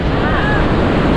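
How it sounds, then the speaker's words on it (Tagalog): Strong ocean waves break at the shore in a loud, continuous wash of surf, roughened by wind buffeting the microphone, with no voices heard. "Grabe, lakas ng alon."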